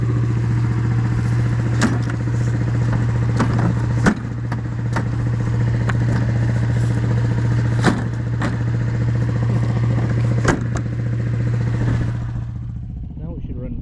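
A steady low tractor engine idles and chugs continuously, with metallic clatters and knocks every few seconds over the running motor.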